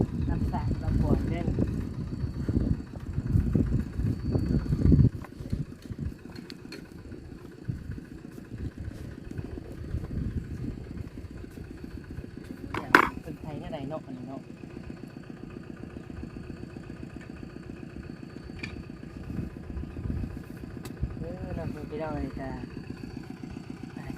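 A walk-behind tractor's single-cylinder engine chugging steadily nearby, louder at first and then settling into an even idle, with a sharp clank partway through.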